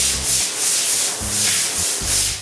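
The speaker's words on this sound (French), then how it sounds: "Il faut frotter vigoureusement le plancher." Vigorous scrubbing of a wooden workshop floor, rhythmic back-and-forth rubbing strokes, close and loud, roughly four or five sweeps repeating alone without talk.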